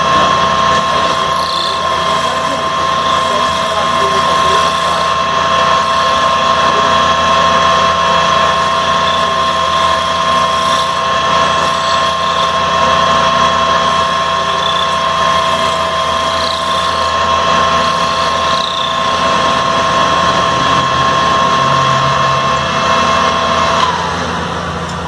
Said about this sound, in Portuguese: Agora já coloquei ali a ferramenta do torno em ângulo. Vamos fazer a parte de baixo aqui.